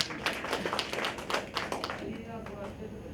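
Audience clapping at a seminar in India: a dense burst of hand claps in the first two seconds that thins to scattered claps, heard through room noise.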